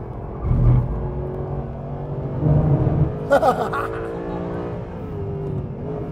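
A race car engine drones and revs up and down in waves, heard from inside over steady road rumble, with a voice speaking briefly over it.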